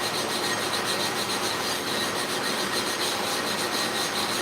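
A small block of wood rubbed steadily over a porous sharpening plate used for clipper blades, giving a continuous close, even gritty scraping with no pauses and no voices.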